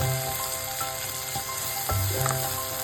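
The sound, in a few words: stirring ridge gourd fry in a pan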